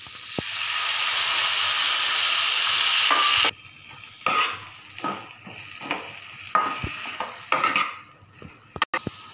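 Tomato and chili paste with turmeric and spices hitting hot oil in a pan, a loud hissing sizzle at first that drops sharply, followed by intermittent stirring scrapes and clinks with quieter frying between them.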